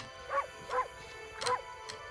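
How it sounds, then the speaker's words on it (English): The wolf character in the video game Okami gives four short, high yapping barks, spaced about half a second apart, close and clear over a faint background hum. "You can actually just have a button that barks in the game."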